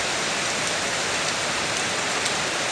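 Steady, dense summer morning rain patters down without a break, a continuous wash of drops hitting surfaces close by.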